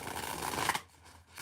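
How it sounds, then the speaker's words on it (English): A tarot deck being shuffled, the cards riffling and sliding close up in a quick papery burst that stops abruptly, followed by near silence and a faint rustle at the end. "Let's get some shuffles on this deck."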